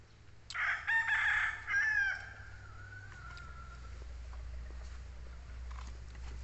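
A single rooster crows loudly nearby, a long drawn-out call that trails off, followed by low ambient rumble.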